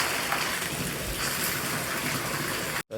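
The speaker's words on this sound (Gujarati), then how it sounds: "વરસાદ કેવો આવ્યો" Heavy rain pouring steadily, a dense, loud hiss of drops with no breaks, ending abruptly in a brief gap of silence.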